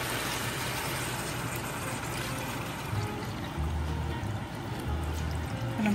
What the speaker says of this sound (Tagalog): Diyan ko siya ng konting tubig.